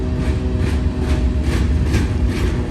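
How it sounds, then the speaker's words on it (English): A long freight train of boxcars rolls through a railway crossing with a steady low rumble and a rhythmic clatter of wheels over rail joints, loud and close. "More boxcars coming up. This train's over a mile long so far."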